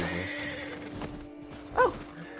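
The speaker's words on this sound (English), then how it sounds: "Is that your horse, dude?" A horse in the video game Red Dead Redemption gives one short, clear whinny near the end, over a soft background rumble and faint hoof clatter.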